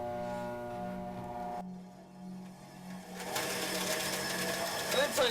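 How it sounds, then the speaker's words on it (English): A bandsaw motor starts up in a cold workshop: a low steady hum swells into a loud, continuous whirring drone with faint voices underneath. "You need your bandsaw to start moving"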